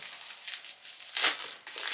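Plastic packaging bags from a Temu haul, one bag inside another, crinkle and crunch up close in irregular bursts, with a louder crumple near the middle and no talk.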